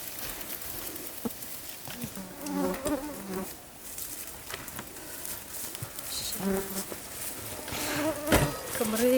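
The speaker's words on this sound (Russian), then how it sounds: "Комары, гады, сволочи." Insects buzz and whine close by throughout on a cycling trip in the countryside. Mosquitoes hum steadily with louder passes near the ear, and there are faint outdoor rustles.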